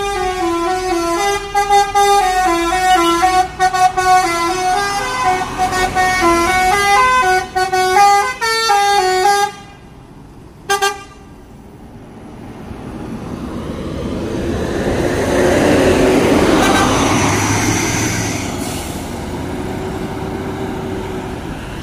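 Epastar bus from Palembang passing, a long loud melodic horn sequence of repeated tuned notes, then a pause and the engine rumble swelling and fading as it goes by.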